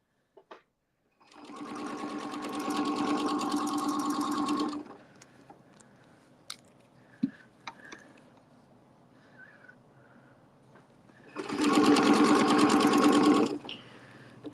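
A sewing machine stitches fabric in two loud, steady runs of rapid, even stitching, each lasting a few seconds, separated by a quiet pause with small clicks and handling noises.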